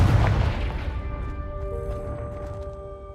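Confringo spell explosion in Hogwarts Legacy: a heavy booming blast with a low thud that decays over a few seconds into a ringing, tonal magical shimmer, loud and close.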